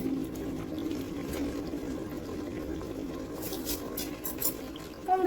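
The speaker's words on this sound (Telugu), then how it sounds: "ఆ వేడి నీళ్ళు ఇందులో వేసేసుకుని" Hot water poured from a kettle into a cooking pot while making chicken biryani, a soft, continuous liquid rush heard close and fairly quiet, with a brief clink near the end.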